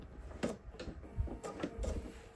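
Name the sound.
sewing machine back stitching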